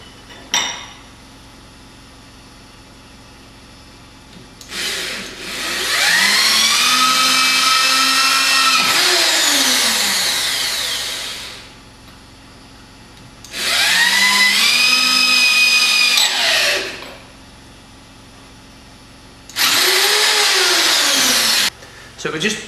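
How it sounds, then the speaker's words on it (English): A high-pitched power drill with a small 3.5mm bit whines in three separate bursts as it drills through the top of a tube, spinning up and down, with quiet pauses between them. "And we're just going to drill through with a small drill,"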